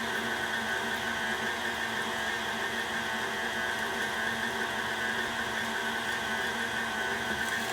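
An electric meat grinder set to speed 3 runs steadily through beef and onions, a loud, even motor whir with a constant buzzing hum that holds for several seconds without a break.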